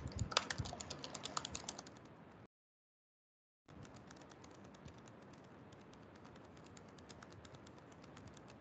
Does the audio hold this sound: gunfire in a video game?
no